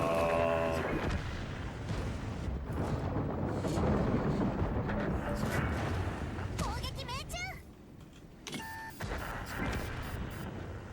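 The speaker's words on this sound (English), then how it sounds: "shooting at soft, squishy tanks with your mediocre standard pen" In World of Tanks, tank cannons boom heavily amid dense battle noise, with interface beeps and whistling shells near the end and someone talking over the action.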